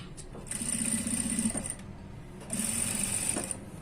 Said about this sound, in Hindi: अब पूरी कंटिन्यू हम यहाँ पे सिलाई लेते हुए नीचे की ओर चले जाएंगे